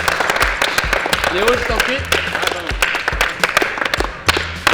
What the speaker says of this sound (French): Je vous demande d'applaudir Léo Attali